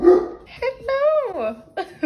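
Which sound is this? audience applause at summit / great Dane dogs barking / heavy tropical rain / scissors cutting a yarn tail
great Dane dogs barking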